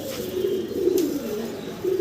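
Fancy pigeons coo continuously nearby, one low rolling call drawn out then repeated, over a steady hum with no talk.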